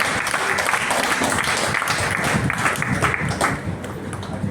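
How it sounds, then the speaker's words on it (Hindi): Dense, steady applause from an audience at a book launch during a literary conference, honoring the authors, with many hands clapping loudly and without pause. "उनके लिए भी जोरदार तालियां बजाइए।"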